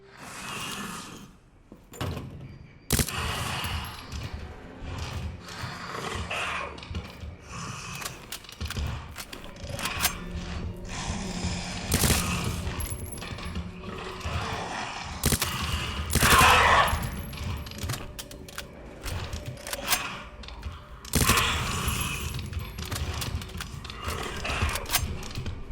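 Suppressed SMG fire in Resident Evil 2 Remake, heard as repeated muffled bursts of rapid shots spread across the clip, some louder and closer, with game ambience and impact noises between them.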